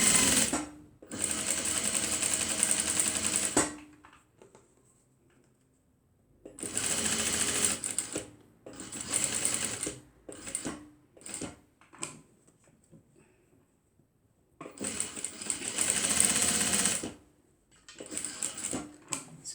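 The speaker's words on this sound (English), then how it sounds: "Continue stitching." Sewing machine stitching a fabric beach tote bag, running in several bursts of steady rapid whirring, the longest lasting about three seconds, separated by quiet pauses with faint handling noises.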